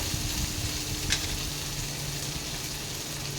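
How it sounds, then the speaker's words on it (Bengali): Chopped tomato sizzling in a hot pan while a spicy okra curry cooks, a steady, close, continuous frying hiss with no talking. "একটা টমেটো কুচি দিলাম, সেটা দিয়ে দেবো।"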